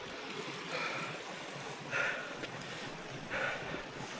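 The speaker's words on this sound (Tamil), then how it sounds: "இந்த ஓடையோட சத்தம் தான் நம்மளை வந்து இன்னுமே உயிர் போட வச்சுருக்குது" Stream water flows steadily in a remote Madagascar forest, a broad rushing wash with gusts of wind buffeting the microphone at intervals.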